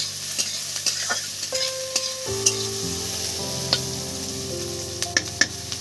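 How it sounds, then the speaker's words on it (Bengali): Onions fry in a pan, a steady sizzle overlaid by repeated sharp spoon clinks and scrapes at an irregular pace, while a sustained tonal hum shifts pitch in the background; nobody speaks. "পেঁয়াজটা কিন্তু আমি বেশি ভাজবো না"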